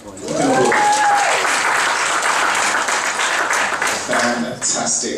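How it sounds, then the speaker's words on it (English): Audience applause at the Project Your Talent Awards evening, a sustained wave of loud clapping from a crowd that fills the room for about four seconds, then dips and swells briefly again near the end. "You can applaud there. You can applaud."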